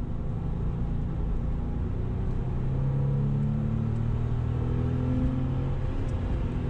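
A Porsche driving in drive mode, heard as a steady low engine drone with a tone that climbs gradually as the car accelerates, moderately quiet and without talk.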